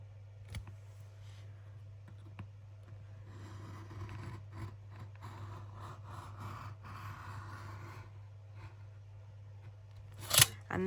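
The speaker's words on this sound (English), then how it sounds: "And we're going to cut the last bit." Scissors snip slowly through paper for a junk journal, soft crunching cuts over a steady low hum, ending with a louder sharp rustle close by.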